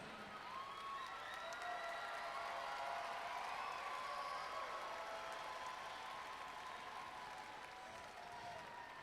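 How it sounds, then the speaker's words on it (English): Crowd at an outdoor float and banner parade applauding steadily, a broad wash of clapping with some distant cheering, fairly faint and even for the whole stretch, with no clear talk. "just a huge round of applause"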